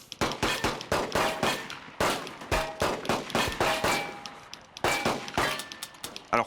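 Rapid volley of gunshots fired at steel gong targets during a timed shooting drill with marine commandos, sharp cracks in quick irregular succession, some followed by brief ringing metallic clangs, loud and close with no talk.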